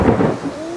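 Loud, rolling thunder booms and rumbles through a heavy rainstorm, heard from under a large metal solar-panel carport while rain pours off the gutters; the rumble fades into a steady wash of rain, with no voices.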